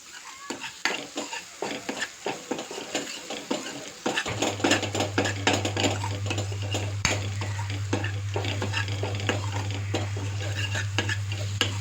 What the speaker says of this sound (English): I will saute the masalas well now